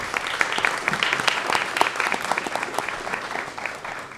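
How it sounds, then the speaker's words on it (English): Audience at a school board work session claps for students who qualified for a national competition, a lighter round of applause from a modest crowd with individual claps distinct, tapering off near the close. "a big round of applause for these individuals"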